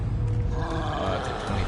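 A troll roars in Hogwarts Legacy, a deep, sustained growling bellow with low rumble that fills the whole stretch at steady loudness, close and alone.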